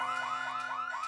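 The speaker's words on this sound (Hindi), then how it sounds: "देखो अलार्म बज रहा है" A cartoon alarm rings in a steady repeating electronic warble, five rising sweeps in quick succession, loud and alone with no voices.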